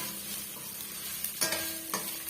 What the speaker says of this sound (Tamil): இது இடையே இது போல வந்து கிளறி கொடுத்துக்குங்க.